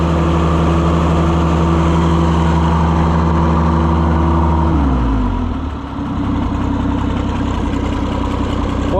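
An Oliver 77 tractor engine running loud and close, holding a steady rumbling idle before dropping in pitch and settling into a rougher, lower chug.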